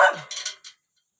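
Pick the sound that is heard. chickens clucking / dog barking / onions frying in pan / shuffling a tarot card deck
dog barking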